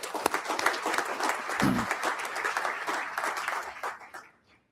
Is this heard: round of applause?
yes